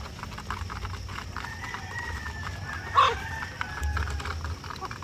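Backyard flock of nearly two-year-old laying hens, Rhode Island Red, Barred Rock and Black Australorp, with a rooster crowing once in a short drawn-out call over a steady outdoor murmur and soft clucking.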